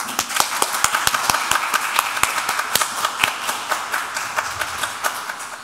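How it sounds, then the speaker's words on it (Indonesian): A church congregation at GKI Bromo in Malang applauds, with a steady patter of clapping and sharp individual claps standing out over a busy room. The sound is moderately loud and holds for several seconds. "Mari kita beri aplaus yang sangat kuat buat mereka."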